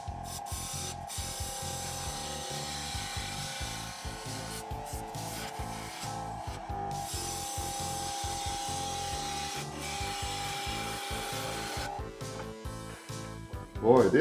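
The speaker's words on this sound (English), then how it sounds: "I'm going to go back to my bowl gouge and try taking a little more off of there at 2000 RPM" Bowl gouge cutting wild-grain wood on a lathe spinning at 2000 RPM, a continuous close scraping rasp with a rapid rhythmic chatter and a steady motor hum underneath.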